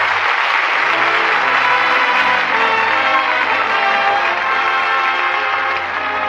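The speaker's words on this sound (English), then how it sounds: "And that applause says it all." A large studio audience applauds at a radio theater broadcast, a loud, dense wash of clapping sustained throughout with faint voices underneath.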